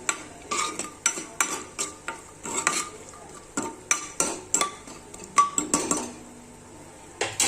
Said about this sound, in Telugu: తీసి పెట్టుకున్న జీడిపప్పును వేసి వేయించుకున్నాను. గోల్డెన్ బ్రౌన్ కలర్ రావాలి.